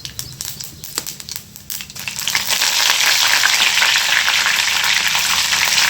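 Cumin seeds dropped into hot oil in a pan on a wood-fired stove, bursting into a loud, continuous sizzle after a few light stirring clatters, close up and alone.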